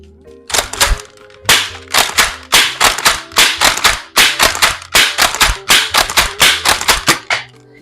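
A toy gun is fired repeatedly indoors, giving a long series of sharp, loud clicking snaps in uneven bursts, close to the microphone with no talking.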